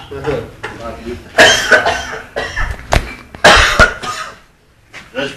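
A drunk man coughs in repeated harsh, wet bursts, several hacking fits close to the microphone separated by short pauses, with some throat clearing in between.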